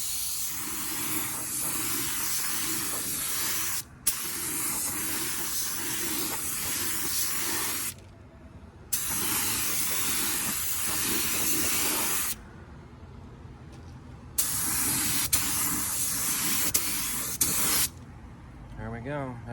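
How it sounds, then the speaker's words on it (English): Bursts of spray-paint hiss on a Magnum 500 wheel being restored, several long steady passes broken by brief pauses, loud and close, with talk faintly underneath. "So I'm gonna finish spraying the other coat on it"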